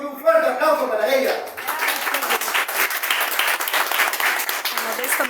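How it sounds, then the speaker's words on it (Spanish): Audience applause for a speaker at a political school event, dense clapping that swells after a brief voice at the start and keeps going loud and steady to the end. "Y un fuerte aplauso para ella."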